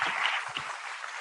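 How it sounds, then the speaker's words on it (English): Applause from a convocation audience in a hall, a steady wash of clapping at moderate level throughout with no voices over it. "Let's give them another round of applause"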